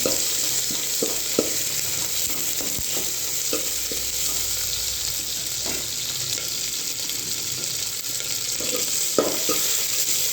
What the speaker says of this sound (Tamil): தக்காளி வெங்காயம் சேர்ந்து வதங்கி வரட்டும்